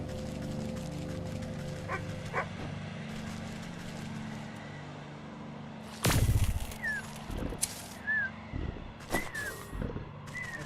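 A dog in the video game Wytchwood gives a few short yips and whines over a steady hum of game music, followed by a sharp loud burst and a string of thin whimpers and high squeaks.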